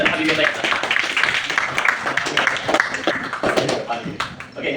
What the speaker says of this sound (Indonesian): Berikan tepuk tangan kepada kelompok dan Habib Taisa.